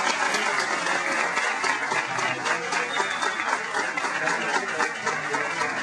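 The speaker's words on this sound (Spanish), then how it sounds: "un aplauso para" Steady applause from a crowd fills the whole clip, dense and continuous at an even loudness.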